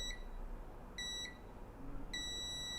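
Multimeter continuity beeps sound while probing a component on a mobile phone circuit board, three short high-pitched electronic bleeps spaced about a second apart, the first two doubled, over a quiet background.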